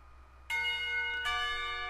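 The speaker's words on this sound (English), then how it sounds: "The bell heralding the beginning of lunchtime rings out" School lunchtime bell in the game Katawa Shoujo: two strong metallic strikes about three-quarters of a second apart, each ringing on with a long bright sustain over a low steady hum.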